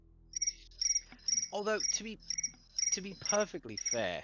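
A phone ringtone of cricket chirps sounds in short bursts, clear and close, while someone talks over it.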